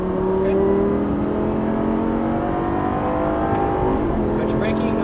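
A Lamborghini Gallardo Superleggera LP570-4 accelerates hard on a race track, its engine note climbing steadily and loudly through the gears in a continuous, close roar.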